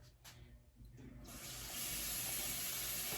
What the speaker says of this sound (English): I need some hot water.